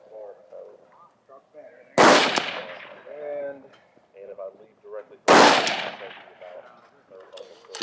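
Two sharp, loud rifle shots from a rifle fitted with a tuner muzzle brake ring out at a precision rifle match, about three seconds apart, each with a decaying echo, while people talk around them.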